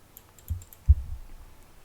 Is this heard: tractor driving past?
no